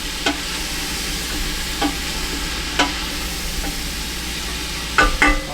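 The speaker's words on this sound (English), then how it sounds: "I forgot I had the mushrooms, so I was trying to figure out what I was going to do. So I got them sauteing." Wild mushrooms sauteing in a pan for a rabbit stew give a steady, close sizzle and hiss, with a few soft stirring scrapes and clicks breaking through now and then.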